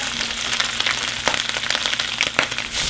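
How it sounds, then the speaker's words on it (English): Steady crackling sizzle of raccoon meat frying in hot grease, with sharp pops and spits scattered throughout, close and fairly loud. "Oh yeah, there's a bit of sizzle."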